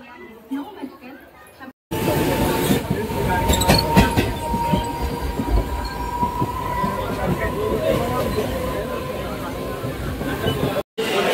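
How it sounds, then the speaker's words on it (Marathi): A commuter train pulls into Diva railway station with a steady rumble, wheel squeal and clattering carriages, loud and close for most of the stretch, while crowd voices murmur on a busy platform. "तर आता ट्रेन कधी येते बघू आणि डायरेक्ट आपण ट्रेन आल्यावरती निघू."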